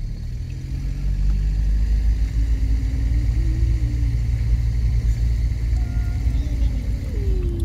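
A car picks up speed during a driving lesson, a steady low engine rumble rising gently in pitch as it accelerates, close and continuous with no talk.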